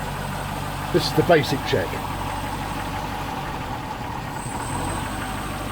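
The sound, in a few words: 1972 Range Rover engine idling, revs dropping as carburettor piston lifted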